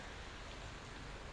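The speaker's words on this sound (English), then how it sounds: "So now in Bali it's getting rain, guys. A bit heavy the rain." Heavy rain falls in Kuta, Bali, a dense, even hiss of steady downpour with no pauses, quiet overall and no voices.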